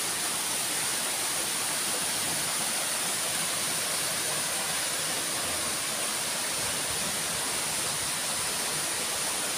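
Portabaga Falls pours down in a continuous, even roar of falling water that stays close and steady throughout, with no voices over it.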